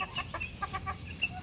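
Several hens clucking nearby in a backyard flock, short soft overlapping clucks and chirps in quick succession.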